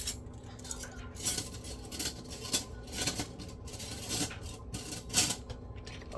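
Dishes and cutlery clink and clatter close by as they are handled and dried during home cleaning, with busy, irregular metallic chinks and knocks over a steady room hum.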